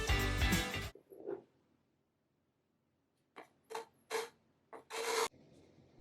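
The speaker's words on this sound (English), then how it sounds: "Let's try to scrape it off with a file." A hand file scrapes across a cured surface of carbon chips and epoxy in loud, bright bursts: one long stroke, then a pause, then several short strokes and a final longer one, close by.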